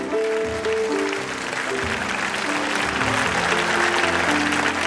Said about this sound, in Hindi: सभी छात्र एक बार दोनों हाथ उठाकर हमारे सभी साथियों का जोरदार तालियों से स्वागत कीजिए